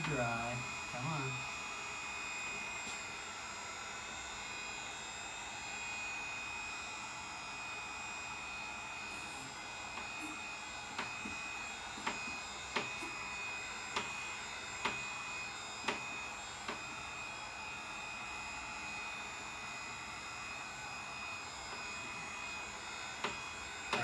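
A hair dryer runs continuously to dry layers of acrylic paint on an abstract canvas, a steady close whirring drone with faint taps and clicks over it.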